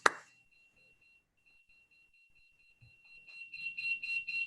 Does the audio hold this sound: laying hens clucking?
no